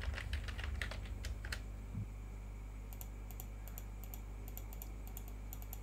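Computer keyboard keys tapped in quick bursts, a dense run of clicks followed by sparser clusters of keystrokes, close and clear over a steady low hum with no talking.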